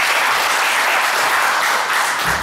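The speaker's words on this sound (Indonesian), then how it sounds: "Tepuk tangan buat cowok." Loud, close applause from a youth audience at a family day talk, a dense and steady patter of many hands filling the whole short stretch without any voices.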